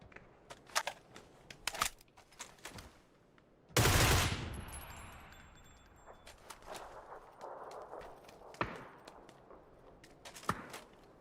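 Gunfire in a video game crackles as sharp, scattered shots, with one loud, long burst and a few more short bursts and single shots around it.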